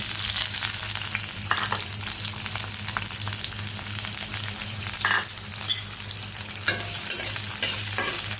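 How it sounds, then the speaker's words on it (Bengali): Onion and green chilies sizzle steadily in hot oil, close and continuous, with occasional scraping stirs and no voices. "তেলের মধ্যে পেঁয়াজ আর কাঁচামরিচটি দিয়ে দিচ্ছি।"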